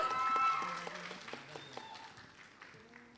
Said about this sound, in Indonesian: Kita berikan tepuk tangan juga untuk Kak Kiki.